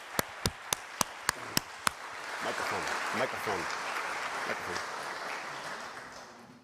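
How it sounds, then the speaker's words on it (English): Audience applause for a panel at an event on America at 250, starting with several sharp separate claps before swelling into sustained, dense clapping across the room, with some talk underneath. "Please give our panel a round of applause."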